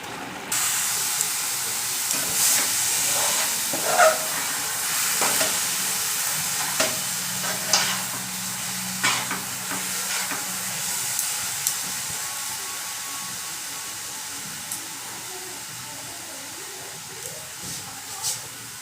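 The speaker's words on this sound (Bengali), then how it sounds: "কিশমিশ দিয়ে ভালো করে মিক্সড করে দেবো।" Carrot halwa with raisins is stirred in a frying pan, a soft steady sizzle and steamy hiss with occasional scraping strokes of the spoon, close and moderately loud throughout.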